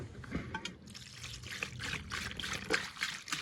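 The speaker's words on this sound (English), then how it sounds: "We're getting ready to put this diesel that I picked up in his truck" Diesel fuel pours into a truck's fuel tank, a faint continuous trickling and gurgling with uneven splashes, heard close up with no talk.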